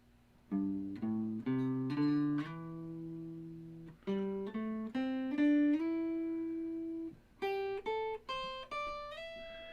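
A guitar plays a quick pentatonic lick of clean single notes, five notes played three times in short repeated phrases, each note ringing briefly, with no voices.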